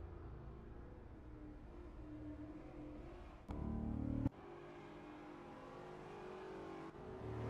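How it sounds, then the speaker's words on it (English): Virtual Spec P71 race car at Streets of Willow spinning victory donuts, the engine droning and revving steadily with a brief louder surge midway and sharp clicks, no talk. "James Bendry doing his victory donuts after what I could only assume was a very chaotic finish"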